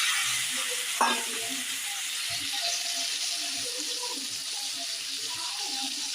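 Boiled plantain stirred and fried in hot oil, a steady close sizzle with soft scraping stirs and one sharp clink near the start, continuous throughout with no talking.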